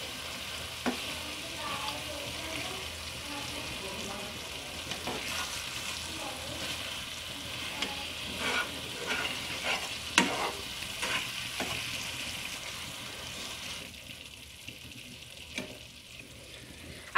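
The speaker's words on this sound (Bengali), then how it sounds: "এটাকে আমি ভালো করে মাছের সাথে মাখিয়ে নিব।" Spices are stirred and tossed with pieces of rui fish in a frying pan for kalia, a steady sizzle with intermittent scraping and clinking of the spatula against the pan, alone without talk.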